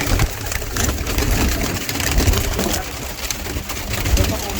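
Pigeons coo together inside a loft housing around thirty birds, a steady layered murmur that stays loud and close throughout, with a low engine-like hum underneath and voices talking over it.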